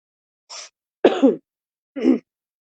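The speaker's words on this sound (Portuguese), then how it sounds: "eu tô tossindo, mas eu tô bem" Three short coughs from an asthmatic person, close and isolated, with brief pauses between them and no talking.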